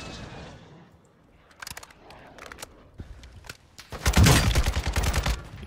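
Gunfire in the video game Warzone 2: scattered single shots and short bursts, then a dense, loud volley of rapid fire near the end, heard close with no voices over it.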